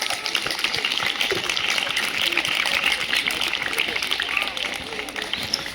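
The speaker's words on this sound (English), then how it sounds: "kindly welcome them with a warm and enthusiastic round of applause." Audience applause at a National Science Day prize distribution ceremony: a dense, steady wash of clapping lasting several seconds at even loudness, with some voices mixed in.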